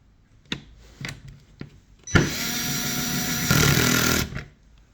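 A hex bit driver tightens the black wire's terminal screw while wiring a Tesla level 2 charger, giving a loud, close, sustained whirring buzz of about two seconds after a few sharp clicks and taps, with no talk.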